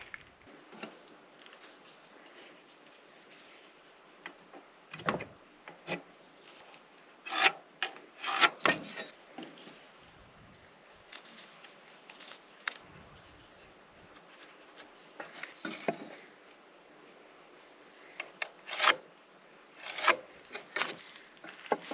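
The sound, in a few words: marking and cutting timber for mortise and tenon joints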